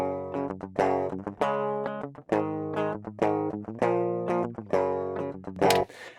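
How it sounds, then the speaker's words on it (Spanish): Clean electric guitar straight through an amp with no speaker cabinet engaged, a series of plucked chords and notes in a loose rhythm, close and clear with nobody talking. "Este sería el sonido limpio tal cual de la guitarra."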